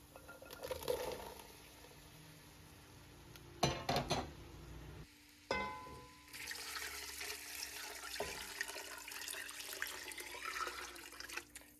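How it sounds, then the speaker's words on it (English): Sweet potatoes, carrots and vegetable broth going into a pot of onions and spices, with splashy pours and bursts of liquid, a couple of sharp clanks and knocks, then a longer steady stream of broth pouring. "We're adding the sweet potatoes and carrots, the broth and the salt, to the onions and spices."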